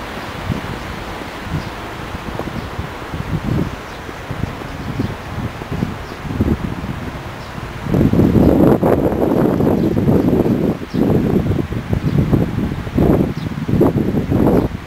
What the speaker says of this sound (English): so maybe you still hear some noise from the wind